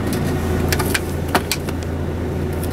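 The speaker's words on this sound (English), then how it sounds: "Now I'm over the engine." Low, steady engine hum of a 2023 Setra 515 HD Comfort Class high-decker coach, heard from inside the cabin above the engine, fairly quiet with a few faint clicks and rattles.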